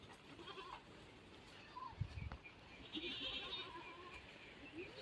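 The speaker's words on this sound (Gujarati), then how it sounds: "નકરા બકરા" Goats bleat outdoors in a faint, noisy scene, several short bleats spread across the clip, some distant and some a little nearer, over a steady background hum.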